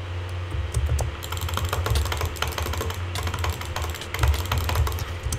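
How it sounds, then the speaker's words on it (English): Rapid butterfly clicking on a computer mouse during a Hypixel Bedwars Minecraft match, a dense, steady stream of sharp plastic clicks close to the microphone, running without pause and without talk. "that butterfly clicking was not effective at all"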